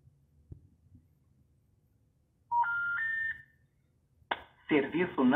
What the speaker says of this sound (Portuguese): ele tenta fazer uma chamada em emergência